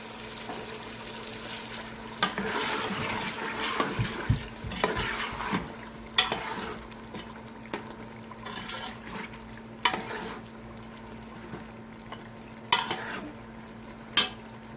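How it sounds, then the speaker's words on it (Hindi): Steady sizzling of meat frying in a pot with garlic-ginger paste, with repeated scraping and clinking as a utensil stirs it, close and continuous. "लहसुन अदरक का पेस्ट डाल रही हूँ, इसको अच्छे से भून लूंगी।"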